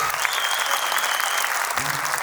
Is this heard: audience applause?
yes